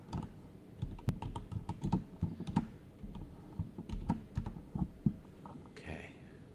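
Close, quiet computer keyboard typing comes as a quick, irregular run of light key clicks, with a few short pauses between bursts.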